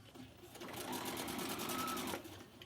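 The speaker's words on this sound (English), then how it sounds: "Back stitch. And a little forward stitch." A sewing machine stitching a fabric face mask, a quick run of rapid mechanical needle ticks in a short burst, back stitch then forward, close and moderately quiet, with no talking.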